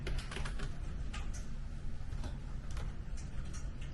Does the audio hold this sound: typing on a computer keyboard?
yes